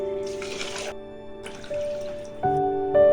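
Water pours into a metal pot holding rice and toor dal in a few bursts, each pour splashing briefly while a ringing tone rises as the pot fills.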